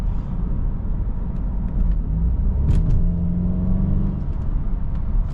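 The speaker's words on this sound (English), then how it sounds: "We'll accelerate out of this turn here, like we always do." A BMW car engine accelerates out of a turn, a steady loud interior rumble that swells with rising revs midway through, heard alone without talk.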